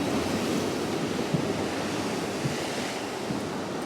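Ocean swell and waves off Guam heard from a fishing boat at night: a steady, loud wash of surf and wind noise across the whole stretch, with a few faint knocks, no voices.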